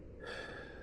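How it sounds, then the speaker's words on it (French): A single soft inhalation during meditation, a brief close breath drawn in through the nose and mouth, faint and alone. "J'inspire, je, j'expire"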